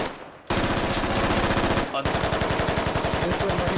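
Automatic rifle fire in the Squad video game, a loud, close, rapid stream of shots in two long bursts separated by a brief gap.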